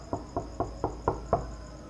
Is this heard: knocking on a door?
yes